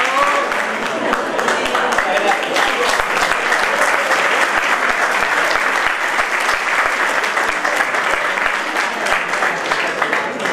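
Sustained, loud applause from an audience at an independent club reunion tea in 2018, dense clapping steady throughout, with faint voices mixed in beneath it.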